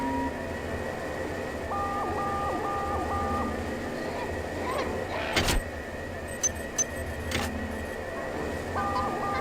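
A repeating electronic alarm tone in the sci-fi game System Shock 2, pulsing in short regular beeps over a humming background, with a few sharp clanks and bursts partway through.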